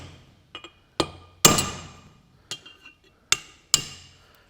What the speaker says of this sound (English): So we just get a flat punch, and you punch on the flat of the top there